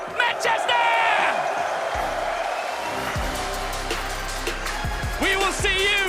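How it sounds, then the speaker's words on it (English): Large esports crowd in Manchester cheering and whooping after the BLAST R6 Major grand finals, a loud sustained roar with shouts and whistles throughout and an amplified voice talking over it. "Give yourselves a round of applause. Manchester!"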